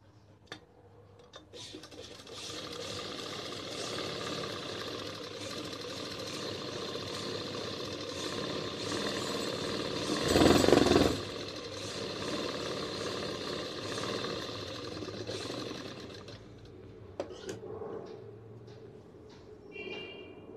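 A sewing machine stitches fabric for a simple poncho design, a steady, fairly quiet mechanical whir that runs almost continuously, swells briefly louder midway and stops near the end.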